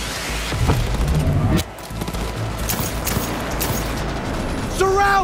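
Gunfire in a Cyberpunk 2077 shootout, scattered loud shots and impacts crackling over a busy combat mix, with shouting voices throughout.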